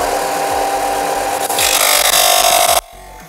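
Ryobi RBDS4601G stationary sander working on wood, a loud steady whir and abrasive rasp that swells briefly before cutting off abruptly near the end, heard alone with no talking.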